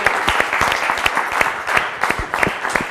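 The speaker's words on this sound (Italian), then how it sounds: "le facciamo un applauso a Fanny" Studio audience applauding a contestant on a quiz show, a brisk, close burst of clapping with sharp individual hand strikes standing out from the dense patter.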